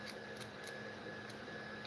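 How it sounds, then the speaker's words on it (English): Two printers running together, the smaller one loud: a steady mechanical hum with a constant tone, plus faint periodic ticks and clicks from the moving parts, close by and without speech. "I have both printers going and my little printer is stupidly loud"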